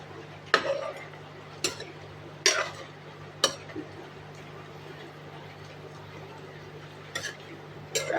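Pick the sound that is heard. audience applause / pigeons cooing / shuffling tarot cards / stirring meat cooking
stirring meat cooking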